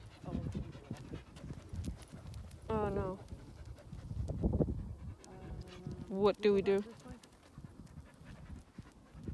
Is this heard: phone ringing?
no